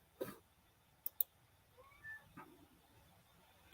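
A cat gives a couple of soft, brief meows against a quiet room, with a few faint clicks scattered around them.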